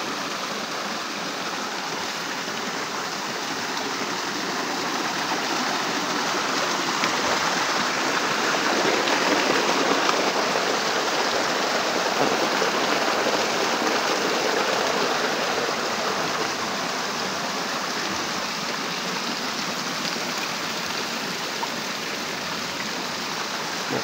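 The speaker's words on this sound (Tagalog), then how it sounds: "Dito tayo sa sapa guys, sa creek." A flowing creek in Libagon, Southern Leyte, giving a steady broadband rush of running water that swells slightly midway, heard alone at moderate level.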